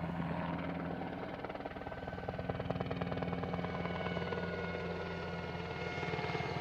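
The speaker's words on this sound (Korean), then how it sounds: "헬기들이 쉴 새 없이 날아들면서 귀가 멍멍할 정도의 소음이 떠나질 않는데요." Several helicopters flying overhead near a fishing spot, producing a continuous loud rotor thudding and engine drone that fills the scene without a break.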